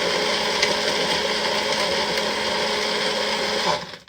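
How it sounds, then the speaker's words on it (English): A Magic Bullet blender whirs steadily at full power, a loud, dense motor roar with a grinding buzz that holds for nearly four seconds before cutting off and winding down quickly. "I may finally have a blender I like."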